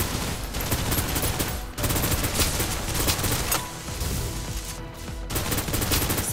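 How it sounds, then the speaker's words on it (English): Dense, rapid gunfire in the video game Snowbreak: Containment Zone, sustained loud bursts of shots rattling almost without pause, with a brief gap midway before the firing resumes. "Suppressive fire."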